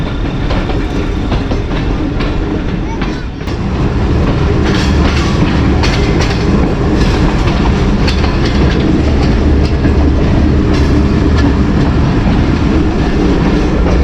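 Mianwali Express passenger train running through a built-up stretch near Sargodha Junction in Pakistan, heard as a loud continuous rumble with rhythmic clickety-clack of the wheels over the rail joints, close up throughout.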